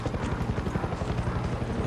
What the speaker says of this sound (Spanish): A ver, helicóptero. El helicóptero está volando.